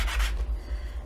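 Short, steady rubbing of sandpaper flattening a piece of a finial tassel, a close, continuous scratchy rasp lasting about a second with no talking.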